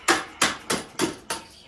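Five sharp metallic hammer strikes land in an even rhythm, close and clear, during the stripping of a 1996 Honda CR250 motorcycle.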